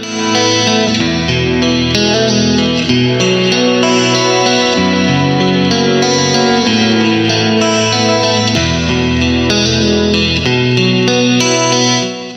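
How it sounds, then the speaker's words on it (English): Clean electric guitar plays continuously with a delay effect, its notes echoing and overlapping into a shimmering, sustained wash. "Send to the guitar delay."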